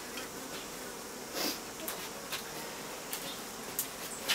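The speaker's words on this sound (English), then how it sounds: "Let's brush those bees off so you can see the honey." A soft, steady insect buzz with scattered brief clicks and rustles, honey bees humming close by at low volume as they are brushed off comb in a top bar hive.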